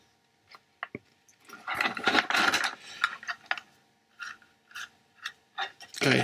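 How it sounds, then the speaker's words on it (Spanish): Small screws being fitted and turned during a memory and hard drive upgrade on a 2009 iMac, heard as scattered close clicks, taps and brief scraping bursts in a quiet room, with no talk. "vamos a agarrar los tornillos y vamos a empezar a colocarlos"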